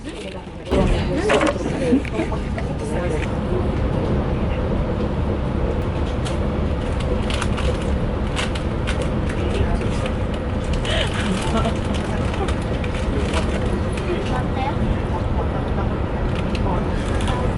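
Steady low rumble and rattling of a moving train interior in Italy, constant and fairly loud throughout, with faint background chatter and occasional clatters.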